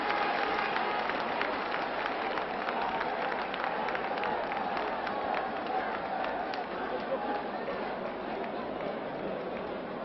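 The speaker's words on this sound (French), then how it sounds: "Cabalé très applaudi" Large crowd applauding steadily throughout as a player leaves the court during a substitution in a 1967 European Champions Cup basketball game between ASVEL Villeurbanne and Olympia Ljubljana; dense clapping with crowd noise and a commentator talking over it.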